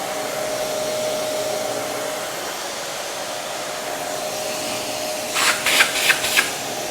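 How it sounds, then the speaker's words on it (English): Shop vacuum running through a Dustopper cyclone separator on a bucket, a steady broadband whooshing hum with a faint tone, and several short rustling bursts near the end. "Now as I turn it on, the suction hose is going to suck all the air out of the bucket and pull that bag tight."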